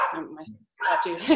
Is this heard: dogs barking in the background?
yes